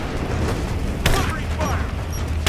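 A grenade blast in Rise of the Tomb Raider's Abandoned Mines combat: a single sharp, loud explosive burst roughly midway, set against a constant rumble of battle noise and gunfire.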